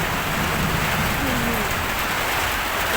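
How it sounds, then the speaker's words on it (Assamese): Heavy rain pours steadily at a duck farm, a dense, even roar of drops on surfaces with no let-up, close and loud throughout. "বৰষুণ দিছে এতিয়া"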